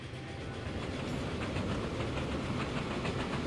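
A locomotive pulling a train in the railway game Transport Fever 2, a steady rumbling rail roll with a hissing wash over it, constant and fairly close, with no talk.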